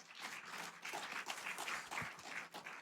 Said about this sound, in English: I'd like to give them all a big round of applause.